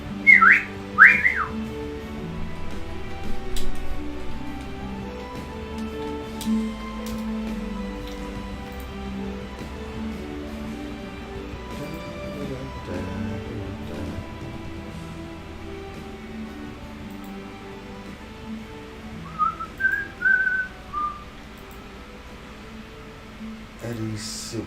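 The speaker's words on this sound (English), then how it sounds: "that was nearly a whistle" A person whistles in short, faint, high bursts at the start and again near the end, with quiet room noise between.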